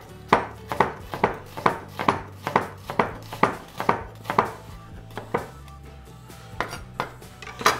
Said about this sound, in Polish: Cebulę kroję w pół plasterki.